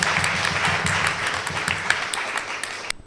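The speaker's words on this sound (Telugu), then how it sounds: "అంత గట్టిగా ఒకసారి చప్పట్లు కొడదామా సంతోషంగా" A church audience at a Christmas service claps together loudly and steadily, a dense wash of applause that fills the room for about three seconds before cutting off abruptly.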